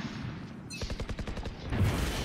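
A burst of rapid video game gunfire rattles out in about ten evenly spaced shots, fairly close and sharp, followed by a louder rumble as the shooting stops.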